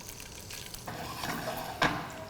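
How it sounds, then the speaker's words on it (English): Paneer cubes sear in melted ghee in a skillet over low heat for a mattar paneer, giving a steady soft sizzle with light stirring and one brief louder crackle burst near the end. "Put the cubes in and sear them on low,"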